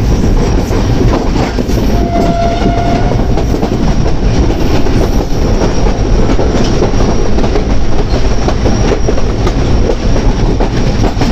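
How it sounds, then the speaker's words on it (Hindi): A train led by an EMD locomotive rolls loudly and steadily past at close range as it crosses a diamond crossing near Rohri. The rumble of the wheels is constant, with a brief squeal partway through. "तो ये ट्रेन बेसिकली डायमंड क्रॉसिंग के ऊपर से होती हुई आ रही है।"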